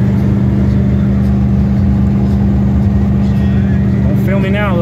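A truck's Triton 5.4 engine drones steadily under load, a loud, low, constant rumble throughout with a brief rise in pitch near the end.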